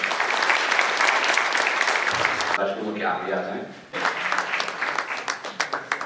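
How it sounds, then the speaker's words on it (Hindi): A crowd at a government job fair where appointment letters are handed out breaks into loud applause, dense clapping that drops briefly while someone speaks, then returns in uneven bursts. "जोरदार तालियों।"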